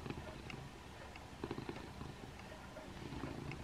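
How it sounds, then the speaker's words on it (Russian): A pet cat purrs close by in a home, a soft, steady low rumble running throughout with faint background sounds and no talk. "Ты так мурлыкаешь, ты такой хороший"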